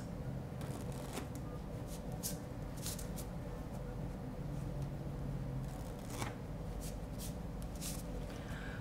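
Playing cards are shuffled repeatedly while dealing poker, with crisp riffling bursts and soft slaps spaced through a quiet stretch, close and clear.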